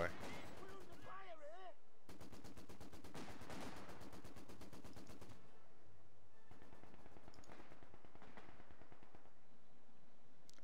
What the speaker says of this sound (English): infantry firing at us